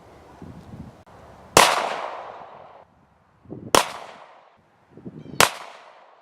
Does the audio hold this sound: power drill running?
no